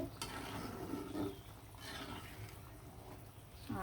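Tomato and hilsa fish curry broth coming to a boil in a covered pot, with a steady low bubbling and simmering hiss and occasional soft pops, fairly close and continuous.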